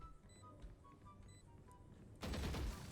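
Gunfire in a Turkish online shooter game, quiet scattered shots and then a loud, sudden, rapid burst in the final second, with no one talking.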